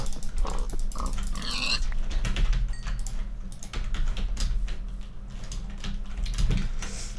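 A pig oinks in Minecraft with a few short grunts early on, set over a steady clatter of computer keyboard typing that runs throughout.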